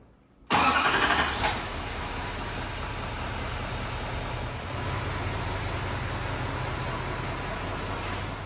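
A 2021 Chevy Silverado 2500 HD Duramax diesel fires up with a sudden loud crank-and-catch burst, then settles into a steady, close diesel idle that rumbles on without pause.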